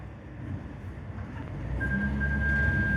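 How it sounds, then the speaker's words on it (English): An automatic four-wheel drive engine revs steadily while engine braking down a steep descent, a low droning hum that builds gradually in loudness and pitch, with a thin whine joining in partway through. "you can hear the engine revving a bit, but that was engine braking in an automatic four-wheel drive"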